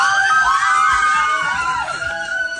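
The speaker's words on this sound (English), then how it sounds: "That's the mother-in-law screaming." A woman screams in a recorded clip, a loud, sustained high-pitched wail that rises and falls over a few seconds, with faint crowd noise behind it.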